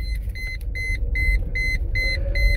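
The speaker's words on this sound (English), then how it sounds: "But it's still beeping." A 1999 Mercedes C230 instrument cluster with oil and water warning lights sounds a repeated electronic warning beep, evenly spaced short tones about three per second, clear and close over a low idling engine rumble.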